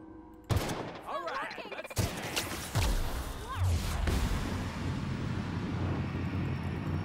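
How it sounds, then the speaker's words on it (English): Gunfire in The Outer Worlds, a few sharp bursts of shots followed by a sustained noisy roar, loud and close, with the game's sound effects layered over it. "Let's just open fire."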